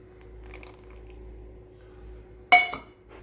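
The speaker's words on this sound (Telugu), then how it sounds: "ఇప్పుడు మనము మజ్జిగ కలుపుకోవాలండి" A metal spoon stirs buttermilk into ragi porridge in a pot after a long quiet stretch with faint scraping, then gives one sharp, close clink against the pot that rings briefly before fading.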